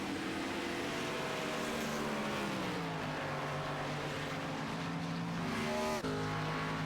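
NASCAR race cars roaring around the track at the Brickyard 400 at Indianapolis in 2005, loud engine drone with pitch sweeping down as cars pass, one car blasting by close near the end.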